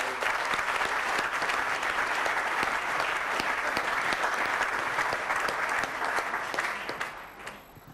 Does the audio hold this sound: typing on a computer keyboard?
no